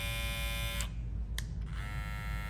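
Babyliss Snap FX hair clippers buzz loudly up close with a steady high-pitched motor whine, which cuts off briefly and then starts again.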